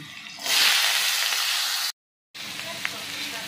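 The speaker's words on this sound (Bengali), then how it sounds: "এবার কেটে রাখা আলুগুলো লাল লাল করে একটু নেড়ে নিচ্ছি" Cut potatoes hit hot oil in a wok with a loud, bright sizzle that swells and holds, breaks off in a brief silence, then returns quieter as they are stirred.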